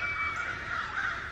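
Loud, harsh crow caws from birds in trees near open farmland with ducks, a continuous rasping call that holds steady and swells slightly toward the end, heard up close with no voices.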